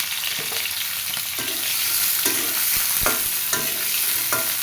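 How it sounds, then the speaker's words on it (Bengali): Kochur loti (taro stolons) and green chilies fry in hot oil. A steady, close sizzle runs under repeated scraping strokes of a spatula stirring the pan. "তেল গরম হয়ে গেছে, এখন এর ভিতরে কাঁচামরিচ দিয়ে দিলাম"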